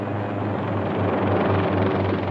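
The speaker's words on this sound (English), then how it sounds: "From the helicopter pad newly assembled on the stem of Calypso, I take off with our pilot, Bob McKeegan." A helicopter lifts off from a pad newly fitted to the research ship Calypso in polar seas, its loud, continuous rotor thrum and turbine whine filling the air up close.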